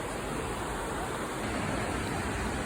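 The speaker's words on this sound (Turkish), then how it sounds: "Düden Şelalesi gözükmeye başladı." Düden Waterfall in Turkey gives a continuous, dense roar of falling water, loud and unbroken throughout, like broadband rushing noise with no pauses.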